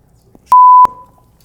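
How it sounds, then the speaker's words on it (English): A single loud censor beep, a pure steady tone lasting about a third of a second, cuts in cleanly over speech in a kitchen and stops abruptly, with faint background noise on either side. "Can you beep this off?"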